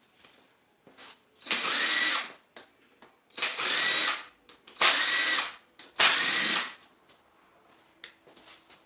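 An impact wrench spins bolts off a 4.8 LS engine being torn down. It fires in four loud, sustained bursts of a couple of seconds each, with short clicks and handling noises in the quiet gaps between them.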